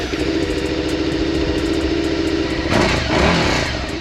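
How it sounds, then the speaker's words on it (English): A Suzuki SV650 motorcycle with its factory exhaust, running steadily at close range with a continuous mid-pitched engine drone and a couple of brief throttle blips in the last seconds. "Start it up one more time."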